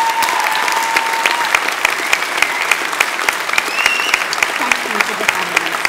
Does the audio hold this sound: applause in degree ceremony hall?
yes